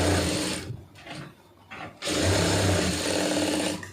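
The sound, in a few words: sewing machine stitching a sleeve lining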